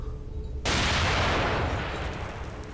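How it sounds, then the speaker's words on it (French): A grenade goes off in a survival horror game, one sudden loud blast breaking a quiet, low hum and trailing into a long, rumbling, noisy decay. "Grenade!"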